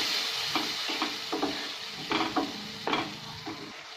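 Tomato puree is stirred into a curry frying in a pan. A spoon scrapes in short strokes over a steady sizzle, close and fairly soft, with no voices.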